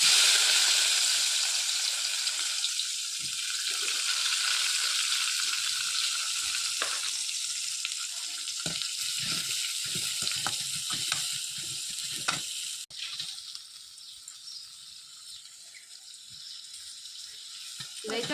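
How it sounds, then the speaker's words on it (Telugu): Onions frying in oil in a pan in a village kitchen, a steady bright sizzle with occasional soft stirring clicks, settling slightly quieter toward the end. "ఇప్పుడు ఆనియన్ అయితే వేస్తా ఉన్నానండి ముందుగా"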